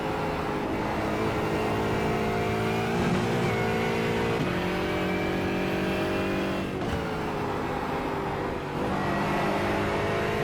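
A race car engine drones steadily close behind in the iRacing sim during an IMSA Pilot Challenge endurance race at Lime Rock, with a constant loud roar and slight pitch shifts as it revs.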